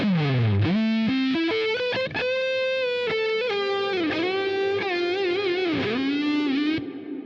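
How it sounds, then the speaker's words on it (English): A free reverb VST plugin gives a huge, spacious wash with a long tail to a sustained, distorted synth lead playing a gliding melody, loud and continuous, with no speech. "Huge reverb sound."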